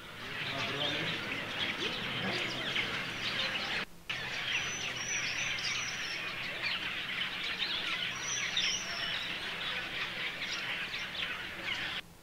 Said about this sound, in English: in the treetops, the hornbills had swapped branches and were engaging in some fairly frenetic interactions